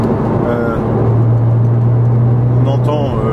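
A Porsche 997 Carrera with a SCART exhaust cruises in sixth gear at about 110 km/h with its valves open, a deep steady exhaust drone inside the cabin while someone talks over it.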